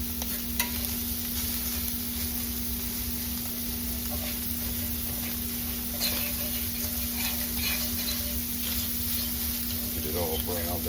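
Sausage browning and being broken up in a cast iron skillet for old-style gravy, a steady close sizzle with scraping stir strokes and a low constant hum underneath.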